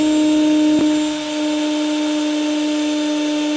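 A drill spins steadily, twisting wire into a Clapton coil, with a constant close whirring hum that dips briefly in pitch and then holds.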